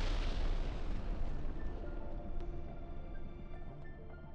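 Heavy, continuous rumbling blasts from FAB glide bombs fitted with UMPK kits striking Ukrainian military positions, a dense, loud, roaring wash of explosion noise that slowly fades over a few seconds.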